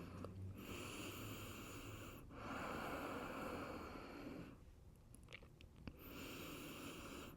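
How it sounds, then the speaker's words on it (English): Loud, steady breathing through the nose during a yoga flow, long rushing inhales and exhales with short pauses between them, close and clear with no talking. "Allow your breathing to be louder than your thoughts, keeping those lips sealed."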